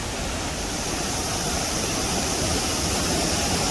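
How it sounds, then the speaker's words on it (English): Waterfall on Koh Chang, a dense, loud, steady rush of falling water that fills the whole stretch alone, with no voices. "I think we got to the waterfall. I can hear the sound."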